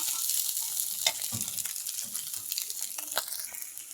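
Noodles added to a hot pan and stir-fried, a continuous crackling sizzle with scraping and tossing sounds throughout, close and steady.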